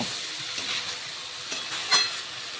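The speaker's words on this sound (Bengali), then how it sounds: "মশলা দিয়ে সবজি কষানো প্রায় হয়ে গেছে।" Potato and pointed gourd sautéing with spices in a pan, a steady low sizzle with a couple of brief stirring scrapes, close but quiet, no speech.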